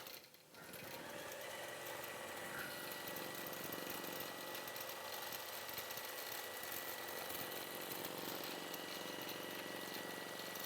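A quilting machine stitches through a minky quilt with a steady, continuous motor whir and rapid mechanical stitching that runs unbroken at even loudness, with no voices.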